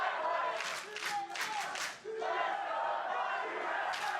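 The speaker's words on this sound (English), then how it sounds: "I like the battling chants here." A large esports crowd at a North American League of Legends match between TSM and FlyQuest chants in rhythmic surging waves and cheers, loud and roomy, with a commentator talking over it.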